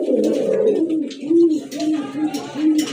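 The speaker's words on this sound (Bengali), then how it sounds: "এক জোড়া রাজগোল্লা কবুতর।" A pair of red Raj Golla pigeons with head crests coo in soft, repeated rolling phrases close by, a few faint higher chirps mixed in.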